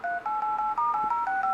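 Phone keypad dialing tones from the speaker of an Amoi A862w quad-core phone: about nine short, evenly spaced beeps in quick succession, clear and close.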